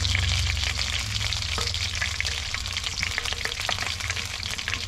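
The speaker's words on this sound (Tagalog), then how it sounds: "Tapos sa kawaling ito, dito na tayo magigisa." A steady, dense sizzle fills a frying pan during sautéing, loud and close, with a continuous crackle and faint scrapes of stirring throughout and no talking.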